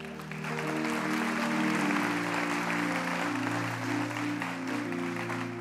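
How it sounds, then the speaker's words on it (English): Applause from a church congregation during a service fills the room, a steady clatter of many hands that builds quickly, holds, then eases slightly, with an organ or keyboard chord sustained underneath. "Can you give Kat a big round of applause"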